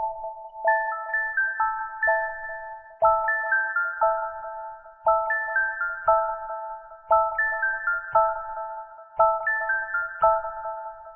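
Distorted synthetic bell tones from a Heat Up 3 plugin, playing a repeating descending melodic phrase of bright struck notes that ring and decay, looping several times at a steady tempo.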